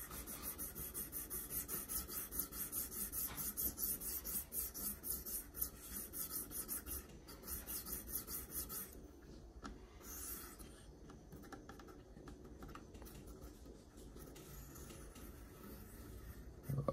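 A Spyderco Yojimbo 2 knife in 20CV steel is sharpened on a KME sharpener. A stone rubs the bevel with soft, quick back-and-forth scratching strokes, busier at first and then lighter and steadier. The sound is quiet and close, with no talk.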